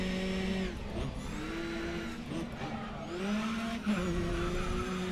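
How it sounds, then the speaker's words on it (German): Racing-game car engine from GRID Autosport, a small rally-style car, droning steadily up close with shifting revving tones and occasional tire noise across the whole stretch. "Er hat einen schönen Sound. Er klingt wie so ein kleines World Rally Car."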